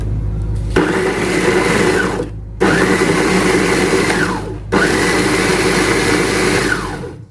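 An electric food processor slicing ginger for Thai vegetarian pickled mustard greens: loud, steady motor whine in three bursts, each stopping abruptly, close and without talk.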